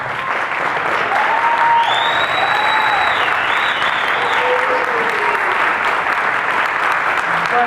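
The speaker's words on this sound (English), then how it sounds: "I'd really like to give you another round of applause." A loud, dense wash of audience applause fills a Halloween-themed concert hall, with whistles and cheers rising through the steady clapping for several seconds.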